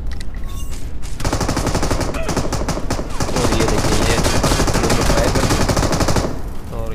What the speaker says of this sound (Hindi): बी एस जेड ने मुझे फायरिंग खोली है। मशीन गन थी बी एस जेड के पास